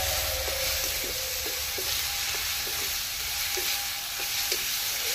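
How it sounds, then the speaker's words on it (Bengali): Spices frying in white cooking oil give a loud, continuous close sizzle and crackle, with faint irregular stirring taps underneath and no voices. "মশলাটা ভাজা হয়ে গেছে।"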